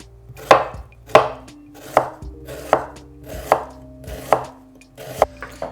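Onions chopped finely with a knife on a board, about eight firm, evenly spaced cuts roughly every three-quarters of a second, close and clear with no talking.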